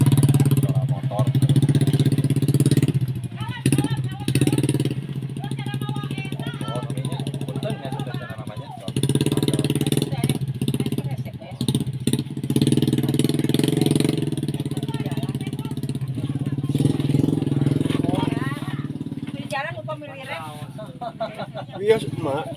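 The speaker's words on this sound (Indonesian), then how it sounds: "Suara motor." A motorcycle engine idles with a steady low rumble, running continuously beneath people talking nearby.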